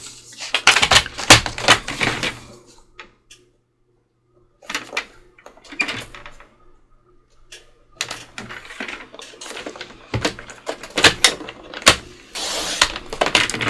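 Paper trimmer cutting paper for a journal: repeated close scraping and clacking strokes in bursts separated by quiet pauses.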